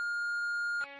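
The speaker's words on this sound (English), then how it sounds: "Please leave a message at the beep." An answering machine gives a single loud, steady electronic voicemail beep that holds for nearly a second, then cuts off.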